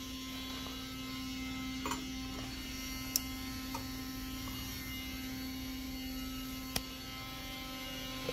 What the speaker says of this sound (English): That's what our furnace sounds like